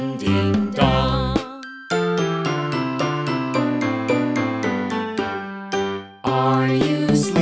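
Bell-like chimes and tinkling tones in the nursery rhyme about morning bells ringing, a loud, steady rhythmic run of struck notes with a short pause near the end.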